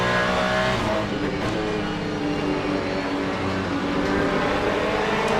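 A Ferrari GT race car engine roars at high revs in Le Mans Ultimate, a loud, continuous, close drone with shifting pitch as the car accelerates.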